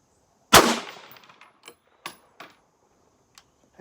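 A Bushmaster Varminter rifle fired from a bipod gives a single sharp, loud shot with a brief decaying tail, followed by a few faint metallic clicks and clatters.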